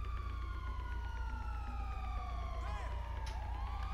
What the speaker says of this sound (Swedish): Nu kommer en polisbil in här.